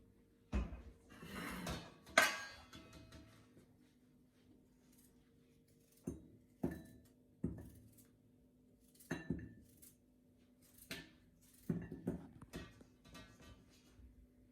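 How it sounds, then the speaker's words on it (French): A knife chops peeled, rinsed potatoes into rounds on a board, giving sharp, irregular knocks and clicks with quiet gaps between them and no talking. "je vais couper en rondelles les pommes de terre qu'on a pelées et qu'on a rincées"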